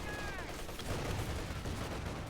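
An MG34 machine gun firing in Company of Heroes 2, a dense, crackling rattle of bursts packed tightly together and heard at a moderate distance.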